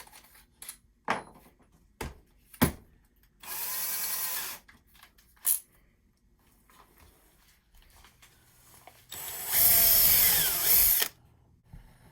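Power drill driving screws into a wooden step stool in a wood shop, heard as a few short whirring bursts and two longer sustained runs, close and loud, separated by quiet handling clicks.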